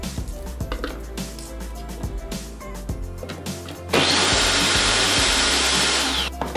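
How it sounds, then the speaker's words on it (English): A food processor blitzes cauliflower into rice, a loud steady whirring roar that starts abruptly after some clattering of pieces and handling, close up and running alone to the end. "This one goes into my food processor."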